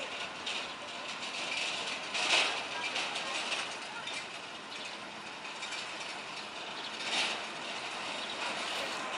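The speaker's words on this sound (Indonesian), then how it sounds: "lokomotif Hokuriku nomor 5 melintasi perlintasan dengan membawa rangkaian lori yang panjang" Hokuriku locomotive no. 5 pulling a long string of lorries across a level crossing, a steady clattering and rattling of wheels and couplings heard from nearby, with speech faintly in the background.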